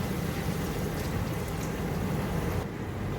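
A glass of water poured into a pot of chicken haleem, a steady, loud splashing rush that runs continuously for about two and a half seconds before easing off.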